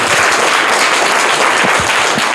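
Loud, dense audience applause for a contestant who has just given a correct answer at a general-knowledge quiz competition. The clapping is close and continuous for a couple of seconds with no talk over it.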